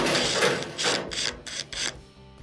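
Phillips screws are backed out of the frame bracket of an LG dryer, heard as a few close, loud ratcheting bursts of a driver, separated by short pauses.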